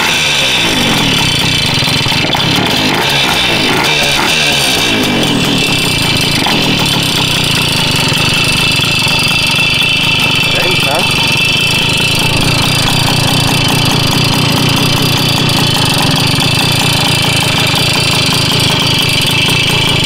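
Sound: Puch Maxi moped with 65cc Polini kit engine running

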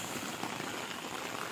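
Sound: rain falling

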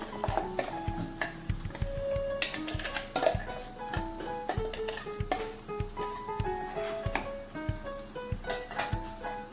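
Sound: stirring corn paste into sautéed onion, tomato, peanuts and spices

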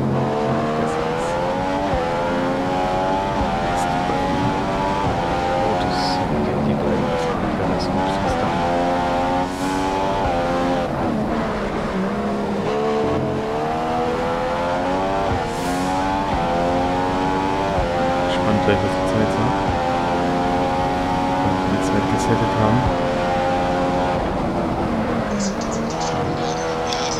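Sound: Mercedes Formula 1 car engine in video game F1 2015

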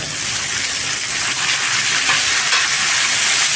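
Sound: onions and tomatoes frying in a pan

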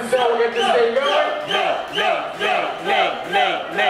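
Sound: crowd cheering at burger eating contest

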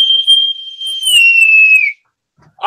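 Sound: dog whistle blown

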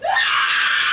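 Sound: woman screaming in courtroom after verdict

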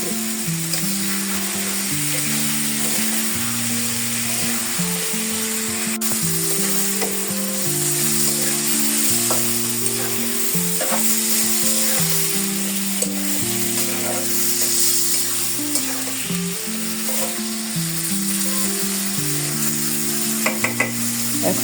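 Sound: vegetable stem curry with fish being sautéed in pan

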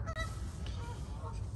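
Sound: geese honking

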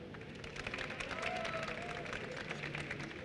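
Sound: audience applause

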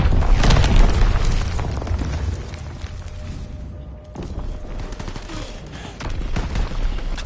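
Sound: mortar fire explosions in video game Call of Duty WWII

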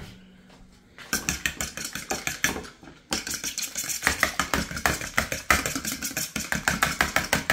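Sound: mixing a mixture with a little water

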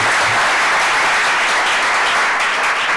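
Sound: audience applauding at a conference

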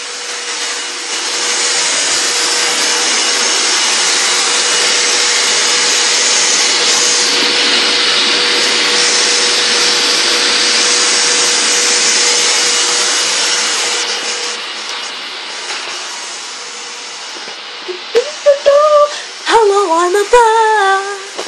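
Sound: vacuum cleaner hoovering during a house move

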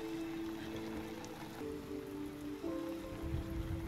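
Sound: rain falling, in a film

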